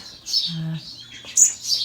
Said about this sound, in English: Generally this time of year tends to be more garden birds than anything.